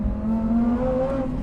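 A supercharged Lamborghini Huracán STO engine wailing, a steady loud droning tone with a slowly rising pitch, heard continuously without talk.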